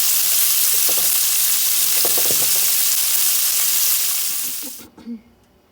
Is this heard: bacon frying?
yes